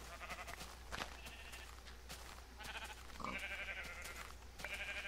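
Minecraft sheep bleat in a survival game, a few distinct wavering baas spaced a second or two apart over a constant low background hum, with no voices.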